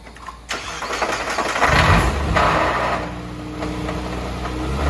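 A Mazda Miata NB engine with a broken front harmonic balancer cranks and starts, then settles into a rough, uneven, knocking running rumble close by.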